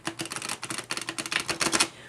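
A deck of cards is handled and shuffled up close, a rapid flurry of crisp flicking clicks running for about two seconds before fading out, with no talking.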